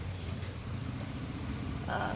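A motorcycle engine idles close by in a workshop with a steady low rumble, rising slightly toward the end.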